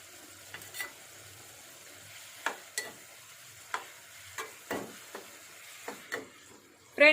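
Chopped ridge gourd cooking in a covered pan on a low flame, with a quiet low sizzle broken by a series of soft clicks and scrapes at irregular intervals.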